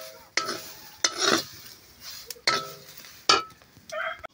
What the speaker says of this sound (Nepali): चिचिमेरै पुरा भुटिरहेको छ चिचिमेरा